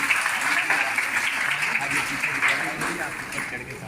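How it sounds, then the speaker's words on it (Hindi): Audience in a hall clapping at an honouring ceremony for sanitation workers and women journalists, a continuous even round of applause filling the room. "सम्मान करने में तालियां बजनी चाहिए।"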